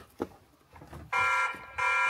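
A Tapo C200 surveillance camera sounding its intruder alarm, a loud piercing electronic siren that cuts in abruptly, breaks off briefly and resumes, after a few quiet handling noises.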